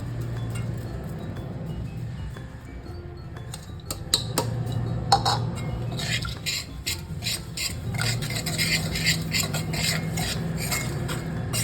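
Spice masala being stirred into carrot pickle, a spoon scraping and clinking against a bowl in a steady rhythm, close and clear, with no talking.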